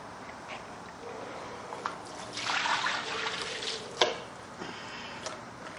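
Water trickles and splashes from a homemade instant hot water heater, a faint, uneven dribble that swells briefly in the middle, with a few small clicks and knocks.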